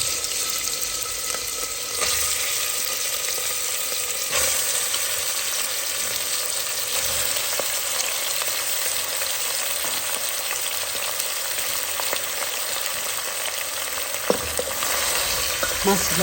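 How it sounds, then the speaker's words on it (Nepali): Goat meat fries in hot oil with cloves, cardamom and cinnamon for a Nepali goat curry, giving a steady close sizzle and crackle that runs throughout, with occasional stirring scrapes and no talking. "अब त्यसपछि म मासुलाई फ्राई गर्छु।"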